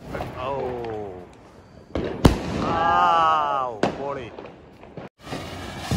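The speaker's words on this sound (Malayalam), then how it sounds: "നമ്മുടെ റോക്കറ്റിന് തീ കൊടുത്ത്" A Diwali rocket firework goes off with a sharp crack, followed by further bursts and crackling. People talk and call out loudly around it.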